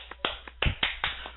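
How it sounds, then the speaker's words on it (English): Rhythmic hand clapping, about six sharp claps at a steady pace, fairly close and heard on their own over a muffled, band-limited broadcast line. "I'm clapping."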